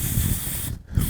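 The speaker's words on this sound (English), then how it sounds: "spray her down real good with a carburetor cleaner" Carburetor cleaner sprays in a steady close hiss over a STIHL MS271 chainsaw carburetor during a rebuild, breaking off briefly and then starting again.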